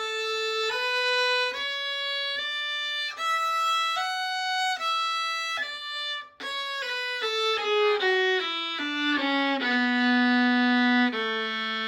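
A violin played with slurred bowing in an analysis of Handel's Bourrée, a smooth legato run of sustained notes stepping downward, close and clear, with no talking.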